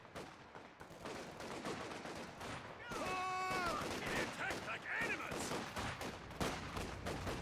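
Dense gunfire crackles through a Company of Heroes 2 battle between Grenadiers and Soviet conscripts, rapid overlapping rifle and machine-gun bursts with explosions, steady and loud throughout, with a voice speaking over it.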